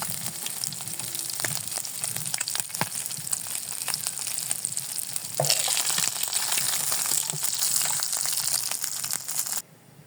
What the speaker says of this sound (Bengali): দেখেন মাছটা আমার কড়া ভাজা হয়ে গেছে